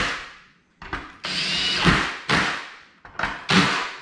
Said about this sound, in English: Technically I'm using a drill with a screw gun setting on it.